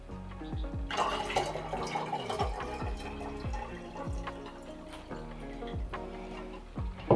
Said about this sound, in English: pour this fertilizer water back into my watering can because it's perfectly good fertilizer water